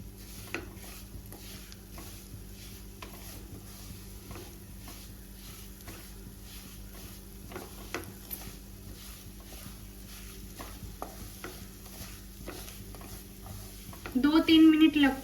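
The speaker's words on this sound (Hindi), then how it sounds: "सूजी को हमें अच्छे से भून लेना है।" Semolina (sooji) being stirred and roasted in a pan for halwa, with soft repeated scraping and light taps of a spoon against the pan over a faint steady background, and a brief louder burst near the end.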